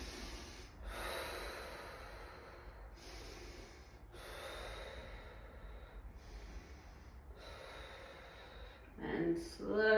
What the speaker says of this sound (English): 3 breaths through your mouth. And 3 breaths through your nose.